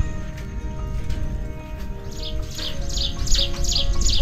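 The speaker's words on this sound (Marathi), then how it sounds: "चिमणी ओरडते" A sparrow chirps in a flowering neem tree in a village garden, with a quick series of about six short, bright tweets in the second half over a steady outdoor background.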